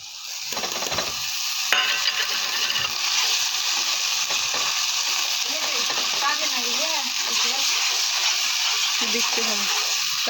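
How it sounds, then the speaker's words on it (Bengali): Ginger-garlic paste fries in hot oil with browned onions and green chillies, giving a steady close sizzle with scraping stirs, while a voice talks over the cooking. "আমি এখানে আদা রসুন বাটাটা দিয়ে দিলাম।"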